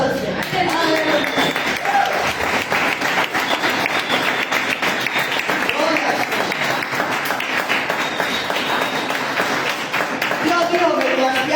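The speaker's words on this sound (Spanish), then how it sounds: "Dale un aplauso al Señor" A church congregation claps continuously for the Lord, dense sustained applause with a voice speaking and calling out over it.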